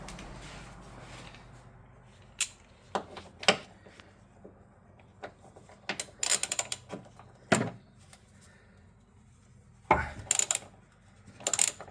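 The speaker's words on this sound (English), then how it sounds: "So you got a thin wall 13 mil socket and a driver." A ratchet driver with a thin-wall 13 mm socket works on a Model 3 front damper bolt, giving bursts of quick clicking and metallic rattles separated by quiet gaps, close and fairly loud.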